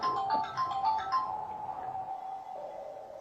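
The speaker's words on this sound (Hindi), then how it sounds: "अरे भव्या का फोन, बेटी का फोन है।" A phone rings with an incoming call from a daughter, a bright melodic ringtone repeating in short notes at moderate volume before it trails off.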